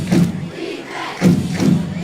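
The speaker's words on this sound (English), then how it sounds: "As usual, the crowd on the Williamstown side, jam-packed." Jam-packed home-side crowd at a Friday night high school football game between Atlantic City and Williamstown, a loud, steady roar with two swelling bursts of cheering and yelling, no clear speech over it.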